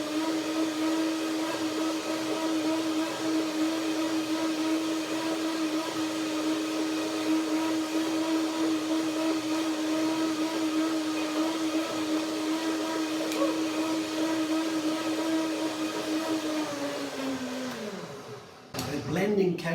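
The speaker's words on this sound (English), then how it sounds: "So I will blend it one more time to make it really creamy." A countertop blender whirs at a steady high pitch while blending cashews and dates into a thick cream, running continuously for nearly twenty seconds before spinning down and stopping.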